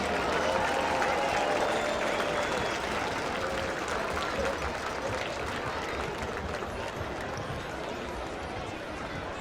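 A crowd at a high school homecoming football game applauds teachers, staff and administration, a broad diffuse wash of clapping heard from a distance, thinning gradually with some background murmur.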